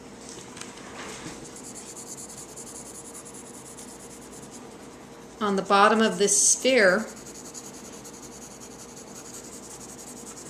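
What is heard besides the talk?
pencil shading strokes on paper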